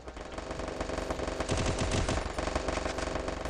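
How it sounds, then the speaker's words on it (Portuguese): Rapid automatic gunfire from the battle royale game Free Fire, a continuous stream of fast shots layered over steady game background sound, loud and sustained throughout. "Tem um tiro"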